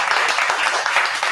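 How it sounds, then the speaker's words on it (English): Audience applause at a faith community gathering, a dense, steady wash of many hands clapping at once, loud and sustained throughout without a break. "Everyone can give a round of applause to Ruth Cohen."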